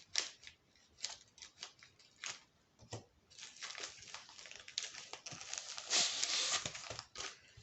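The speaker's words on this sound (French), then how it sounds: "je vais faire au ciseau, ça sera pas plus mal" Scissors cut through heavily glued packaging from a diamond painting kit, giving a run of repeated crisp snips and rustles that grow denser and louder toward the end, close up, with no talk.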